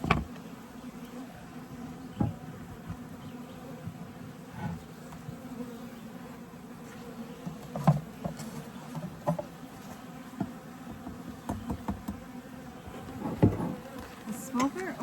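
Bees buzz steadily at close range, a soft droning hum with occasional sharper passes and faint rustling taps.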